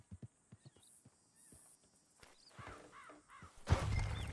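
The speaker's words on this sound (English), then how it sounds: "Shit, the horses! Damn horses!" Horses in the Red Dead Redemption game near Valentine, with hoof clops and footsteps building into a louder burst of stamping and snorting at the end, plus a few bird caws over the scene.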